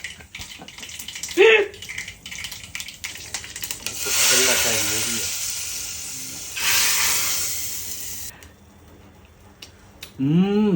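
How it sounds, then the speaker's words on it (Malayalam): A hot pan sizzles and crackles as wet food hits the oil, in two loud hissing bursts of a few seconds each, with voices talking before and after. "വെള്ളമുള്ളതാണ്. പടപടയെന്നു പൊട്ടിയോളും"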